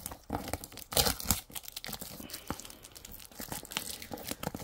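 Plastic wrapping being peeled off a package of Kirkland Signature fragrance-free baby wipes, heard up close as a burst of tearing and crinkling followed by irregular softer rustles and crackles, with no talking.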